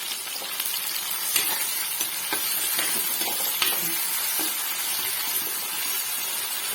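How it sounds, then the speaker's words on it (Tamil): Cluster beans, brinjal and okra with curry leaves sauté in a clay pot, giving a steady close sizzle broken by a few sharp stirring clicks and scrapes. "அது மண் சட்டியில் வதங்கிறது பார்க்கறதுக்கே ரொம்ப அழகா இருக்கு"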